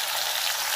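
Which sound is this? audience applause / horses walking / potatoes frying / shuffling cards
potatoes frying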